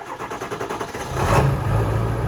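Old Ford 7.3 diesel truck engine cranking with a rapid starter chug, then catching and settling into a loud, rough idle up close.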